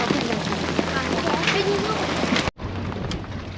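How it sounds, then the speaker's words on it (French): Big raindrops pelting a boat during a thunderstorm, a dense steady patter with people talking over it, briefly cut off near the end before resuming. "C'est des grosses gouttes hein"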